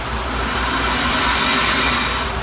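A mother alligator gives a loud, sustained, rasping hiss-growl at close range, a steady rough blast of noise that holds for the whole stretch without breaks.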